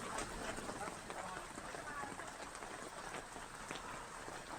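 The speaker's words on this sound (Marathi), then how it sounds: "रायगडमध्ये दक्षिण भागात मोठ्या प्रमाणात पाऊस पडतोय, मुसळधार पाऊस पडतोय।" Heavy monsoon downpour in the southern Raigad district, a dense steady hiss of rain falling on surfaces, fairly faint and unbroken, with a voice speaking over it.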